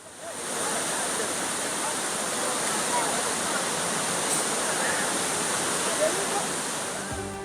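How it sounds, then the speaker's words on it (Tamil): Flooding waterfalls at Courtallam in full spate roar as a steady, dense wall of rushing water. The sound is loud and continuous with no gaps throughout. "ஐந்தருவி, மெயினருவி உள்ளிட்ட அருவிகளில் வெள்ளப்பெருக்கு ஏற்பட்டுள்ளதால்"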